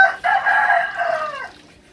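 A rooster crows once nearby, a loud drawn-out call of about a second and a half that trails off at the end, with no other chickens or voices clearly heard.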